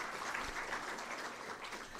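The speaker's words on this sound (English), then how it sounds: "A warm round of applause for the MEC." Applause at a gala dinner for the Gauteng Climate Change Summit, a steady wash of many hands clapping at moderate distance, fairly faint and continuous throughout.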